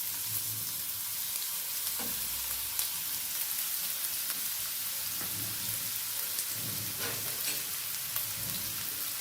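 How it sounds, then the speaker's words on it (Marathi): Finely chopped onion sizzles steadily in hot oil, a continuous crackling hiss with occasional stirring scrapes near the pan. "तो कांदा छान आपल्याला परतून घ्यायचा आहे, छान हलवून घ्यायचा आहे."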